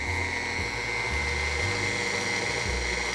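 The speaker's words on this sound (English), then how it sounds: "So we have this in our mixer and we're gonna turn it up." An electric mixer whirs steadily, beating pound cake batter. The motor hum is constant and close, with a faint high whine and small shifts in its low tone.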